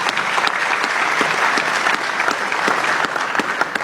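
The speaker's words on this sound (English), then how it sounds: "Give him a round of applause." A town hall crowd in Astoria, Oregon gives a round of applause, many hands clapping steadily and loudly throughout, with a few sharper individual claps standing out from the mass.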